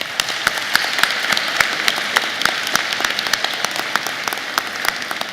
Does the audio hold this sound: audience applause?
yes